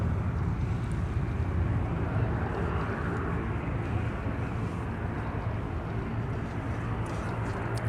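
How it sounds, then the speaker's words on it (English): An Airbus A330neo airliner departing MSP airport, a steady broad engine roar heard from a distance that holds unbroken throughout, mixed with wind rumble. "A330 Neo departure"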